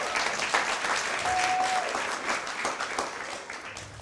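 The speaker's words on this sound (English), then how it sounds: "just a round of applause for him, please" A church congregation applauds steadily, a dense wash of clapping that holds for several seconds and slowly tapers off.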